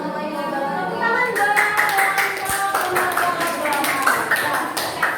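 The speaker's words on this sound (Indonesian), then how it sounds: "Tepuk tangan" Scattered clapping from a small audience at an Indonesian university teaching performance exam, a handful of distinct hand claps building into brief applause while a voice talks over it.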